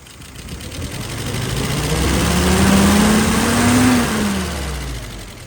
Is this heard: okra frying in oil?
no